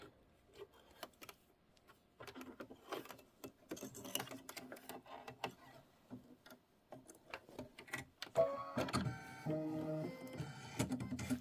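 A sewing machine stitches a quilt block in steady mechanical bursts with pauses between runs, then a louder, faster stretch of rapid stitching near the end.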